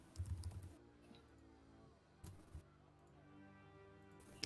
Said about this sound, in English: We hear you typing.